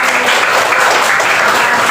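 Children clap their hands in a classroom, a dense, steady patter of many small palms that is loud and close and fills the short moment without pause.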